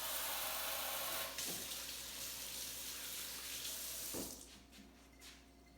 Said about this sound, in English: the next thing I'm going to do now is just rinse my hands off